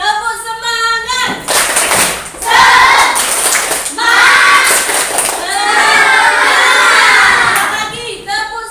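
A class of schoolchildren performing a 'tepuk semangat' clapping chant, loud rhythmic bursts of clapping mixed with shouted chanting voices in a classroom, in several energetic phrases.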